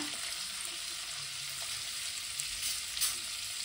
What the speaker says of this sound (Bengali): চিংড়িটা আমি হালকা ভেজে নেব